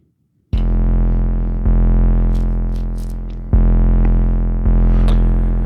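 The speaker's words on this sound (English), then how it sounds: "So here's a sine wave, which sounds like this." A deep, buzzy sub bass line synthesized from a digital sine wave on a Digitakt plays in sustained notes that change pitch a few times, slightly gritty and loud, with no voices.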